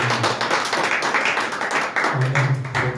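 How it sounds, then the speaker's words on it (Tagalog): A church congregation claps loudly and steadily, a dense wash of many hands filling the room for a few seconds. "Malakas na palakpak"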